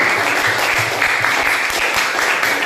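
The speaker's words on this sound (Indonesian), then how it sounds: "Beri tepuk tangan." Steady, loud applause from a class of primary school pupils, continuous clapping that fills the whole moment.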